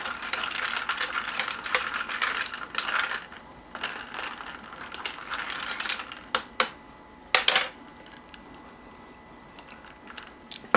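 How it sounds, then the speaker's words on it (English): A long teaspoon stirring limeade with ice in a glass, producing a run of rattling ice and light clinks, then a few sharper metallic taps near the end, close and fairly quiet, no talking. "Add ice, take a long teaspoon and stir."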